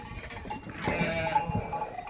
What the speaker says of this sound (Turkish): Şu anda işte dişi koyunlarımıza yem veriyoruz.